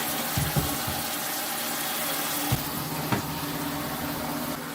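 Hot water gushes steadily into a Giantex 13 lb portable washing machine tub, a continuous close, loud rush of running water with a few small splashes, no voices.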